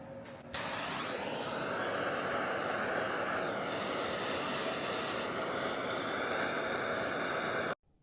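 A torch flame plays over CNC-cut wood for a treasure-themed prop, a loud, steady roaring hiss that starts abruptly and holds evenly until it cuts off.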